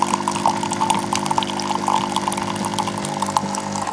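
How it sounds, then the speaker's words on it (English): A Siemens EQ.6 plus fully automatic espresso machine dispensing coffee into a cup, its pump humming steadily under a continuous trickle of liquid, close and fairly loud. "Our coffee is dripping in the cup"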